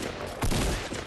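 A burst of gunfire in Fortnite rips out loud and dense in rapid succession, filling the short moment with overlapping shots and no talk.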